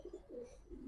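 Pigeons at a market stall where breeder and racer birds are sold coo in repeated low, throaty bursts, close and fairly loud, with no talking.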